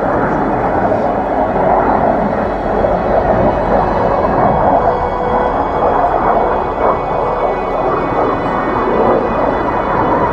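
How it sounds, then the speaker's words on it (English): Fighter planes fly overhead above a Lake District lakeside walk near Ennerdale Water, a loud continuous roaring rumble sustained throughout. "Fighter planes."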